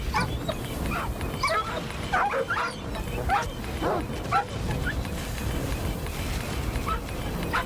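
Dogs in the game S.T.A.L.K.E.R. 2: Heart of Chernobyl, set among swamps and strange water, bark, yip and whimper in repeated short bursts over a dense, noisy background.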